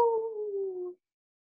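A single voice imitates a coyote howl, one drawn-out tone that slowly falls in pitch for about a second, then silence.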